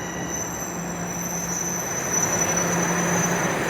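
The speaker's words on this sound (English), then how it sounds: "And there's a southbound train rolling in." A southbound subway train rolls into an underground station with a steady loud rumble, high wheel squeal and rising noise as it nears.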